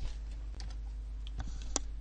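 Soft, quick tapping on a computer keyboard while a formula is typed into an Excel spreadsheet, a few scattered key clicks over a low steady hum, close and quiet, without talk.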